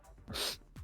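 A single quick sneeze from a person, a short sharp burst with a breathy intake before it, faint and close.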